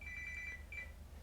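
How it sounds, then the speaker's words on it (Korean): A telephone rings faintly in the background during a Korean stock market commentary recording, a thin steady electronic tone with a brief break and resumption. "녹화하는데 전화가 오네요."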